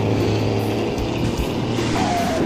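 A truck engine braking while downshifting in Grand Truck Simulator 2 gives a continuous low, rumbling drone, loud and close, with slight shifts in pitch as the gears change.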